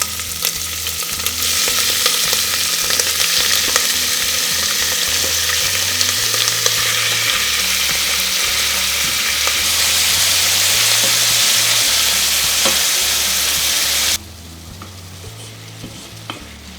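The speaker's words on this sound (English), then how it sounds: "add the hearts and then fry them up until they're brown" Turkey hearts fry in hot oil with a loud, dense sizzle and crackle that runs steadily for about fourteen seconds, then cuts to a quieter background.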